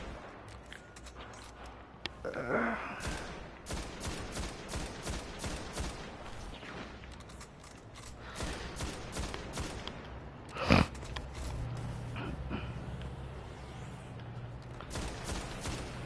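A rapid burst of video game gunfire in Destiny's Vault of Glass with sharp shots and explosive bazooka blasts, continuing in dense volleys with a loud bang near the middle.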